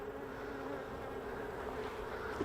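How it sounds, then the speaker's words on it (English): A dense, steady buzz of many honey bees swarming close by around a hive box, continuous and without pauses, with no voices. "there's a lot of bees in there"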